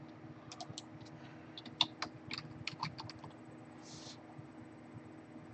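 Quick bursts of keystrokes on a computer keyboard, close and fairly quiet over a steady low background hum, with a short pause near the end.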